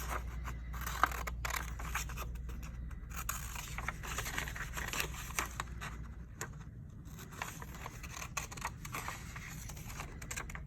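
Scissors cutting a paper ark out along a drawn line, a close series of irregular snips and paper rustles against a low steady hum, with no talking.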